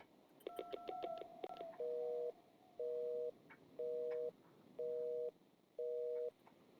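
A telephone call in the Danish PC game Timmy - Sos Fra Havet opens with a quick string of dialing tones, then gives five evenly spaced, steady ringback beeps of equal length.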